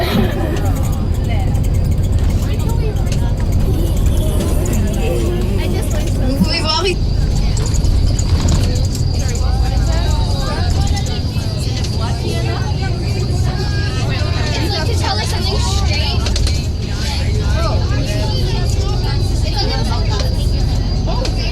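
A bus engine hums low and constant inside the cabin on a long ride in Quebec, with road rumble throughout and a person speaking French over the steady drone.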